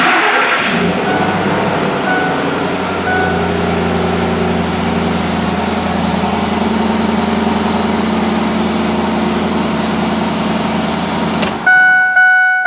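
A Ford F-150 pickup that had been cranking but not starting fires up and settles into a steady, loud, close idle, its low engine drone running unbroken for about eleven seconds before cutting off abruptly.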